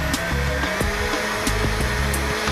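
A blender whizzes peanut butter, ice cream and milk into a thick shake, a steady loud motor whir running throughout with a few sharp clicks and knocks over it.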